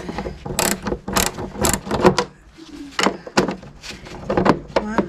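Irregular metallic clicks and ratcheting from a 10mm box wrench turning a bolt on a Yamaha Rhino 660, short sharp bursts close up with brief pauses between them.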